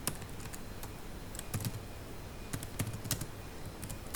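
Typing on a computer keyboard while entering a QBasic INPUT command, with scattered key taps in uneven bursts, some clustered and some single, heard close and fairly quiet over a steady low background hum.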